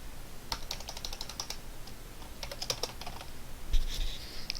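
Fingers type a file name on a computer keyboard in short bursts of clicky keystrokes with small pauses between them, close and clear with no talking.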